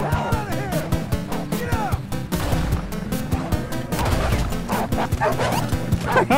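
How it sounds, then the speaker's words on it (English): In the Western game Red Dead Redemption 2, a dog barks and yips rapidly and loudly, a dense run of close barks mixed with game sounds and occasional gunfire. "What are you doing, dog? Go away."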